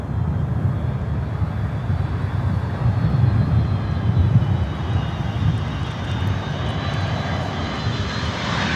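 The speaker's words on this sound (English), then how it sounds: "Delta 757 coming in from Atlanta." A Delta Boeing 757 arriving from Atlanta at Miami airport roars steadily as it comes in, a loud broadband engine rumble with a faint high whine, continuous and close for the whole stretch, with no voices.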